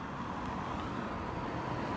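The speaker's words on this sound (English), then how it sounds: "We have to wait for the car to pass by." A car passing along a street on a warm late-winter night, a steady low broadband rumble of road and engine noise holding evenly through the moment with faint wind underneath.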